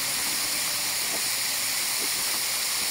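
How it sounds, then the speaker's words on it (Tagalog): A steady, broad hiss of chicken pieces frying in a pan for chicken afritada fills the clip at an even level, with faint clatter underneath. "Habang piniprito."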